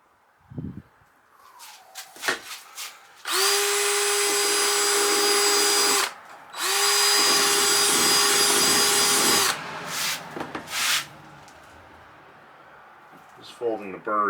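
A power drill bit grinds through burrs on a window for a 215B Cat excavator, running loud and steady in two long bursts of a few seconds each, separated by a short pause, with quieter handling clatter before and after.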